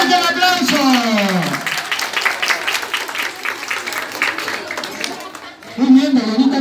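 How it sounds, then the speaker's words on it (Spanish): An audience at a school talent contest breaks into clapping that runs for several seconds, dense and fairly close, with a voice speaking briefly at the start and again at the end. "¡Fuerte el aplauso!"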